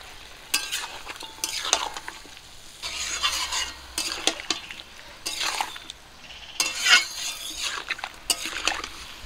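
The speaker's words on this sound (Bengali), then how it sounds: "লবণ হলুদ দিয়ে চিকেনগুলোকে ভাজা করে নেব" Chicken pieces fry with salt and turmeric for a chicken curry with ash gourd, with repeated bursts of spatula scraping and stirring over a softer background sizzle in the pan.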